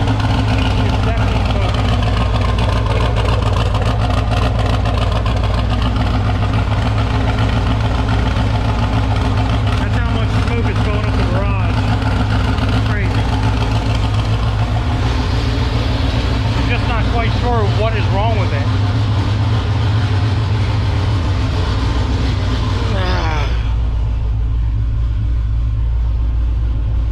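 A turbocharged car engine idles loudly while running rich and smoking heavily, with a steady low rumble underneath. Someone talks over it throughout, and the sound cuts off sharply near the end.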